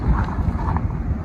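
Wind blows hard across the hilltop at Analgadh, a brief rough gust of close, low rumbling buffeting against the microphone.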